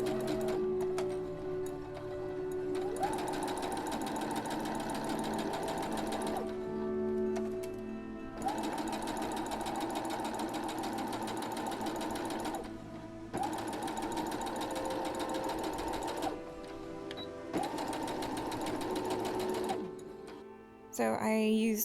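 A sewing machine stitches the side seam of a velvet corset top in several long, steady runs with short pauses between them. The whirring is close and loud.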